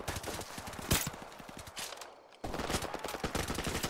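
Gunfire in Call of Duty: Modern Warfare Remastered: rapid, steady automatic bursts that pause briefly and then resume, loud and close, with no talk over them.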